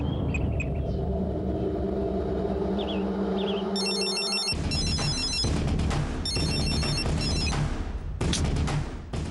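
Electronic telephone ringtone trilling in repeated bursts over a low rumble of background music in a Tamil television drama scene, loud and without talk.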